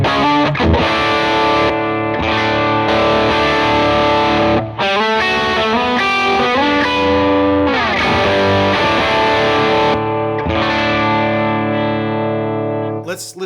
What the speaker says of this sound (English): Currently it's Gladio, and it's sort of set like for a bigger